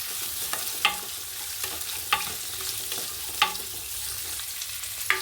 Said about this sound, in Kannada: ನೆಕ್ಸ್ಟು ಈರುಳ್ಳಿ, ಹಸಿರು ಮೆಣಸಿನ್ಕಾಯಿ, ಕರ್ಬೇವಿನ ಸೊಪ್ಪು, ಸ್ವಲ್ಪ ಫ್ರೈ ಮಾಡ್ಕೊಳ್ಳೋಣ